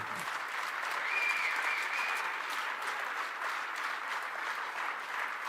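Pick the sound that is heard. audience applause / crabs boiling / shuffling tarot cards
audience applause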